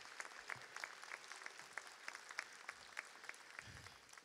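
A modest crowd claps steadily for several seconds at a community college honors day ceremony, the applause fairly faint and even without cheering.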